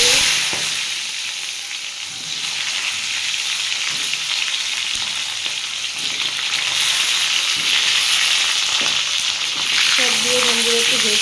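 Potatoes and tomatoes fry in a pan with cumin seeds for a pumpkin-potato curry, a steady loud sizzle that holds throughout with occasional stirring scrapes.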